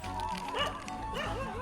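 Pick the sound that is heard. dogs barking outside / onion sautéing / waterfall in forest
dogs barking outside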